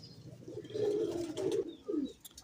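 A pigeon gives a soft, throaty rolling coo, two or three low warbling phrases close by, with faint background noise and no talking.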